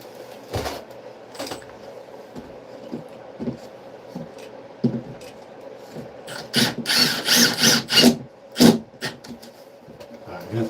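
A power drill drives screws into a panel during water damage repair, with short whirring bursts and clicks early on and a louder run of drilling toward the end, mixed with handling noise.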